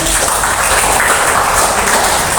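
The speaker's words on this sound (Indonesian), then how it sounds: "Tepuk tangan untuk semuanya." Steady, loud applause from a classroom group during a teacher-training session at a Yogyakarta university, even clapping sustained throughout with no pauses.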